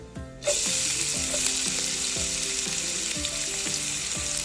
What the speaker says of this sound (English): And we just fry the garlic and ginger a little bit for a few seconds